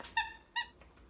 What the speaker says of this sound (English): oh, it does have a squeaker.